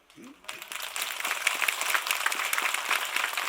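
A Buddhist temple audience at a dharma talk bursts into dense, sustained applause that fills the hall after a brief voice at the start.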